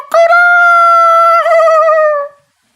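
A rooster crows loudly and alone in one long, sustained cock-a-doodle-doo, its pitch wavering briefly before the call tails off.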